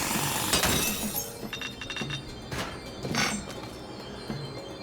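A glass window shatters in the Splatoon video game, several sharp bright crashes and tinkling breaks in quick succession, close and loud with no voices.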